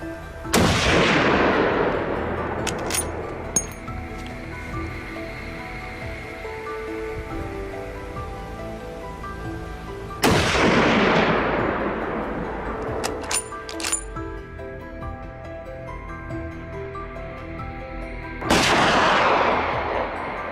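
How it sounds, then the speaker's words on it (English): Gunfire during a wild boar hunt in an open field, with hunters firing from the air: three loud, sharp shots spaced several seconds apart, each ringing out and decaying, with faint metallic clinks between them. "gunfire erupted from other positions, swiftly taking down the remaining boars"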